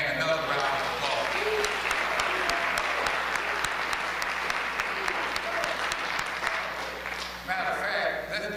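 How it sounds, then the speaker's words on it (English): A university convocation audience celebrating Martin Luther King and Black History gives the choir and band another round of applause, sustained crowd clapping with distinct sharp claps standing out and low murmuring voices mixed in beneath. "Let's give the choir and the band another round of applause."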